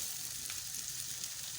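Bitter gourd (karela) sautés in a pan, giving a faint, steady oil sizzle with soft crackling and no voices.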